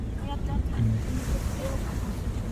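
Sea waves breaking at a surfing shore with gusting wind buffeting the microphone, a continuous close wash of surf while voices talk faintly underneath.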